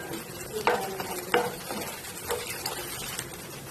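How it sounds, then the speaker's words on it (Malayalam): A spoon stirs a sweet banana filling mixed with sugar in a hot pan, with a continuous soft sizzle and several scraping strokes close by. "കുറച്ച് പഞ്ചസാര ഇട്ട് പഞ്ചസാര ഇട്ട് കൊടുത്തിട്ടുണ്ട് നന്നായിട്ട് മിക്സ് ആക്കാം"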